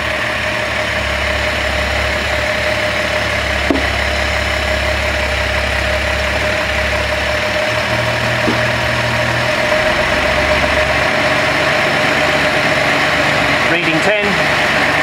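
A car engine with twin SU carburettors idles steadily and loudly throughout, a constant low drone as the carburettors are balanced, with a few brief clicks and a short burst of handling noise near the end.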